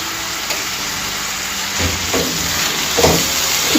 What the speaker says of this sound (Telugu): ఉప్పు వేసి ఇదంతా ఒకసారి కలిపేసుకొని